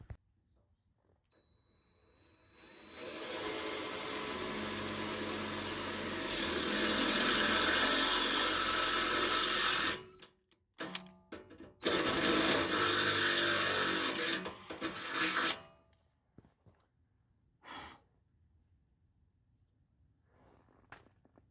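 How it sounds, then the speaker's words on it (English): A power drill drilling holes whirs loudly in two long bursts, the second cut short, followed by a few brief mechanical clicks and quiet. "let's go drill some holes and see if we can get those on at least"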